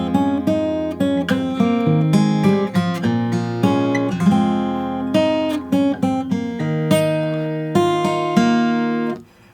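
Fingerstyle acoustic guitar plays the opening verse line of a song, with plucked notes and bass strings ringing in a steady flowing rhythm, loud and close, no talking.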